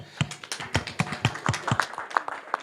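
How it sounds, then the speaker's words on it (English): Audience applause for a panel at a Davos 2024 discussion on digital art platforms and tokenization: scattered, moderately close hand claps in an irregular patter, fairly light and sparse rather than a full ovation, with no talking. "And big round of applause for them."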